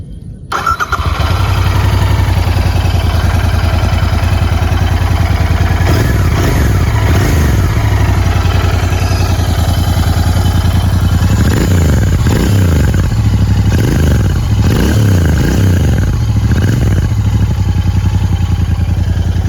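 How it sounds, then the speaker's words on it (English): A Royal Enfield GT650 twin-cylinder motorcycle engine cranks over and fires up, then settles into a loud, steady idle exhaust note close by, with several sharp throttle blips that rise and fall in pitch, no voices present. "after listening to the exhaust note, there's only one more thing left to do"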